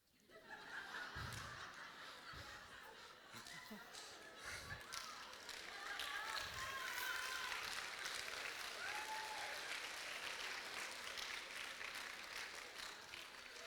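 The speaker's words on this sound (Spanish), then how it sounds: "Primera vez que oigo aplaudir a gente porque digo que alguien se fue a la masa." An audience applauds at a talk, with scattered laughter and snickering mixed into steady clapping that builds and holds, heard fairly faintly.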